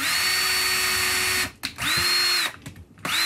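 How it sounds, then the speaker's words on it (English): Power drill with a very small bit boring pilot holes for a hi-fi speaker kit build, a loud high whine running steadily, then stopping and restarting in short bursts, with no talk. "What we want to do is we want to drill some pilot holes."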